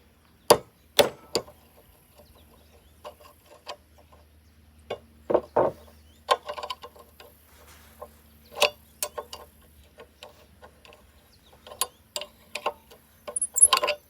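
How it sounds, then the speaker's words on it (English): Hammer blows peening a worn, weld-built-up part of an International 430 small square baler, a series of sharp metallic strikes at irregular spacing, some in quick pairs, close and fairly loud over a quiet workshop. "lay it down here, and peen this area"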